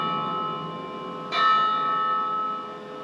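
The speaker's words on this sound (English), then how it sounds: "The bell invites me." A church bell tolls once in a stage performance of Macbeth, its strong struck onset followed by a long, steady ringing hum that slowly fades over a faint background drone.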